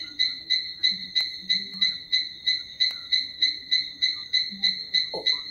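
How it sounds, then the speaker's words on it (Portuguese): Calls of two frogs, one small and one large, a rapid steady train of bright, buzzy pulsed notes repeating about three times a second, with lower croaks and a brief deeper call beneath. "ele registra o som de dois sapos,"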